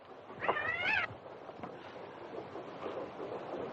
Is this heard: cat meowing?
yes